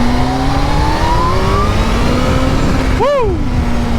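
A Kawasaki Z H2 motorcycle pulls hard under throttle, its engine note climbing steadily over loud wind rush before a quick gear change snaps the pitch down and it rises again.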